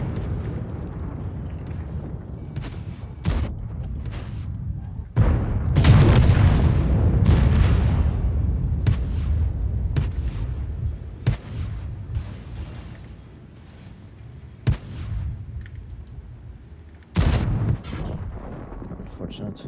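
Tank cannons fire in World of Tanks, with repeated loud booming shots and sharp cracks at irregular intervals, some near and heavy, others more distant, while someone talks over parts of the battle.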